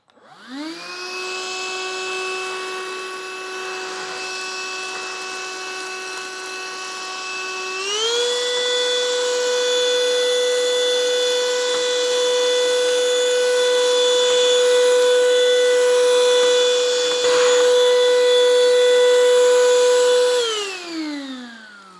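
A B&D Furbuster handheld pet vacuum runs steadily while sucking up cornflakes, its motor whine rising in pitch when boost mode kicks in, then winding down as it switches off.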